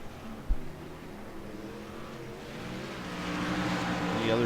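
Race cars in a PC stock-car racing sim pulling away from a pit stop after four tires and fuel, a steady engine drone building and revving up toward the end, with a sharp knock early on.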